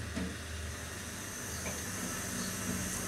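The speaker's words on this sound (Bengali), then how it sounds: "তো পানিটা ফুটে উঠছে।" Water boiling in a covered cooking pot while lau leaves and shing fish curry is prepared, giving a faint, steady hiss and low bubbling rumble that runs evenly throughout.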